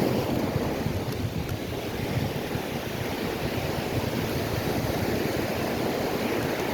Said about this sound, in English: 3-foot waves are definitely pushing their way onto the beach higher.